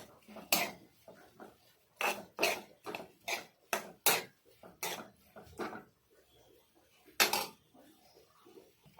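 Prawn roast with turmeric powder stirred in a pan on an Indian home stove, a run of sharp metallic scrapes and clinks from a spoon against the pan, irregular and close, with quieter gaps between bursts.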